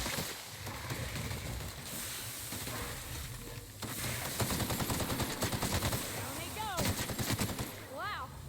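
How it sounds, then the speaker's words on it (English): Sniper rifle fire in the video game The Outer Worlds, heavy gunfire noise within a dense, loud game soundscape, with sharp bursts mid-clip and whistling tones near the end. "That was the first time I used my new sniper rifle"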